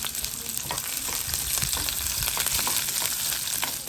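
Onion and garlic fry in a pan for Jaffna-style sambal, giving a continuous moderate sizzle with frequent stirring scrapes and light clinks. There is no talk.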